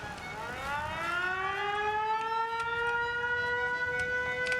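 A wailing video game siren, from Fallout 4, rises and holds steady, loud and sustained, with faint clicks and other sounds underneath.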